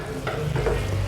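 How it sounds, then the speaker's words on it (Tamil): Pepper powder is stirred into a simmering chicken masala gravy, giving soft scraping and sloshing strokes over a steady gentle sizzle, close and moderately quiet. "மிளகுத்தூள் சேர்த்து நல்லா மிக்ஸ் பண்ணி விட்டுறலாம்"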